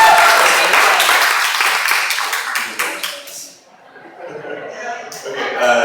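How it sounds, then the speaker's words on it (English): Audience at a talk applauding, a brisk burst of individual claps that thins out and fades, followed by a speaker's voice returning. "Big round of applause for Nathan, please."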